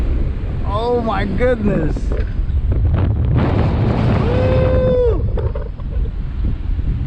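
Strong hurricane wind buffets a small Ryze Tello drone flying in fast mode, roaring steadily against the microphone throughout, with the drone's thin whine rising briefly and an excited voice exclaiming over it.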